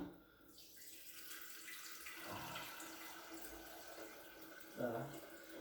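Tap water running and filling an electric kettle in a home kitchen, a steady splashing stream that rises and falls in level, ending with a brief louder gush near the end.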